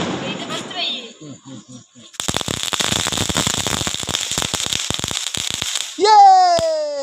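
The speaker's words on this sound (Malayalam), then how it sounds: "പടക്കം പൊട്ടിയതാണ്" Firecrackers burst at night near the Rameswaram temple. After some quieter sounds at the start, a loud, rapid string of sharp cracks and pops runs continuously for several seconds. A strong tonal wail, like a horn or voice, follows at the close.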